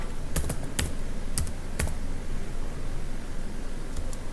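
Quick bursts of computer keyboard typing as React Native code is entered, a few clustered keystrokes early on, then near-silence with steady background hiss and a couple of faint taps at the end.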